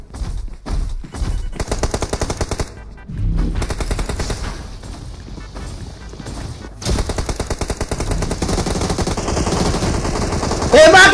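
Thompson submachine gun fire in an online shooter game, loud rapid bursts of automatic gunfire repeating across the stretch, with brief gaps between volleys and a dense sustained burst near the end.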